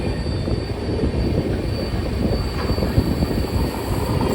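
The Howrah–Malda Intercity Express via Rampurhat runs along the track with a steady, loud rumble of wheels on rails and faint squeal, constant and close, with no voices.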